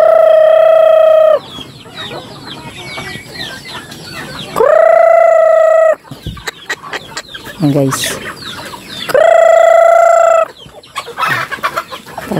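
Loose chickens cluck and squawk in a busy flock while a rooster crows loudly three times; a person briefly speaks between the calls.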